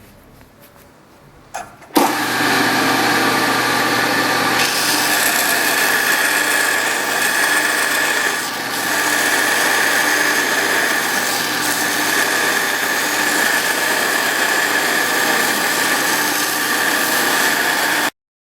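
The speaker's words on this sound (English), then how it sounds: "Okay, we'll do a little belt sanding here." A loud, steady power-tool whine starts abruptly and runs continuously, like a belt sander grinding wood, close and constant.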